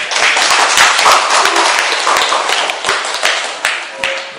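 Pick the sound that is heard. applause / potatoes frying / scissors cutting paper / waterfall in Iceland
applause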